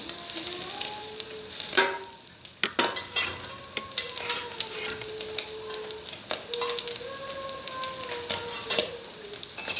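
Rice for pulao being stirred in a pressure cooker with turmeric, chopped chilli and ginger: a spoon scrapes and clinks against the metal pot in irregular strokes over a soft sizzle, steady and close throughout.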